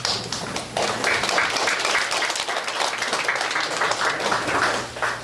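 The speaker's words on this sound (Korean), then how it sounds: "큰 박수를 보내주시기 바랍니다" An audience at an induction ceremony for a filial-piety school claps for an introduced guest. The applause is a steady, close, dense patter that lasts the whole stretch.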